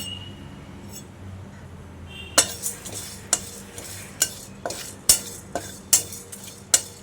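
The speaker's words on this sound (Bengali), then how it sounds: "এটা একটুখানি শুকনো কড়াইতে নেড়ে চেড়ে আমি গুঁড়ো করে নেব।" Dried red chilli tossed in a dry wok for a jackfruit-seed mash, a quiet stretch before sharp spatula scrapes and clinks begin, recurring every half second or so, close and fairly crisp.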